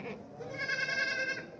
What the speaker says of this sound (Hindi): ये है बकरा, बीतल बकरा है, टॉप क्वालिटी वाला